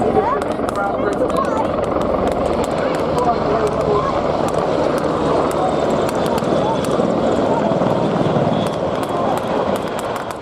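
Royal Navy Commando Merlin helicopters of 846 Squadron at the RNAS Yeovilton air day, a steady, loud rotor and engine roar that holds throughout, with a commentator talking over it on the public address.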